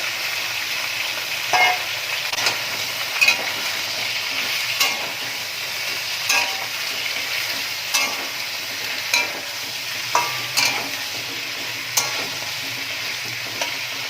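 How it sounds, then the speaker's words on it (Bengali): Green banana, potato, pointed gourd, papaya and tomato frying in oil in a pan, a steady sizzle punctuated by regular spatula knocks and scrapes roughly every second or two, no speech. "এবার সব সবজিগুলো ভেজে নেব"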